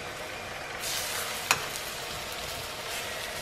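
Fish frying in a small amount of oil, a steady soft sizzle that swells slightly partway through, with a single sharp click or tap cutting through near the middle.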